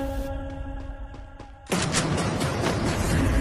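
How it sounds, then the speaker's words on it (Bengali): Gunfire in a sniper shooting video game: a few sharp shots over a steady droning background, then a dense, loud burst of rapid firing and explosions that continues to the end. "তো গাইস দেখো, একে আমি কিভাবে একটা জাম্প শট দিয়ে মারি।"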